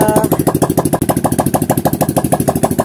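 A Honda XRM 125 motorcycle engine runs with no exhaust pipe fitted, a loud, raw, rapid chugging pulse of sharp regular beats at idle, close up and unbroken.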